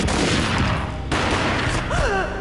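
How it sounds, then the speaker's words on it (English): Gunfire in the Max Payne video game: a dense, loud, continuous volley of shots with a brief dip midway, followed by a faint tonal whine near the end. "A gunshot boomed and she fell down in slow motion."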